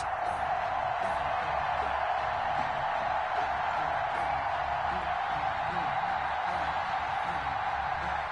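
A steady stadium crowd roars in an EA Sports football game before a Chargers versus Cowboys matchup, a constant broad wash of cheering with occasional whoops, moderately loud and unbroken.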